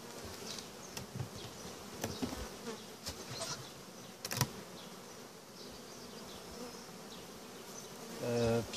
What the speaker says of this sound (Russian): прошли сутки с того момента, как я пересадил пчел в этот улей